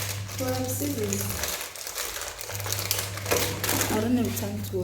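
A plastic package is torn open and crinkled, with bursts of sharp rustling and crackling alongside a person speaking and a steady low hum.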